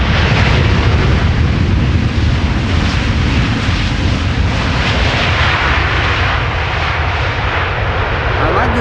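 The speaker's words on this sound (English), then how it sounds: "touching down after 10 hours and 44 minutes of flight time. It's a 7879 Dreamliner" A Boeing 787-9 Dreamliner touches down at Amsterdam Schiphol, a loud, sustained roar of engines and rushing air filling the whole span, steady and powerful from nearby.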